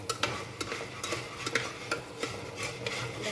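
Dry potatoes roasting in a pan, a spatula tapping and scraping in quick irregular strokes over a soft sizzle, close and unaccompanied by speech.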